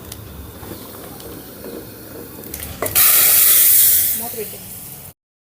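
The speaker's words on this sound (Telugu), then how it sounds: "సాంబార్లో పోపు వేగిందండి ఇప్పుడు సాంబార్లో వేసుకుందాం" Soft background noise gives way to a sudden loud, hissing sizzle as hot tempering hits sambar, fading out after about a second.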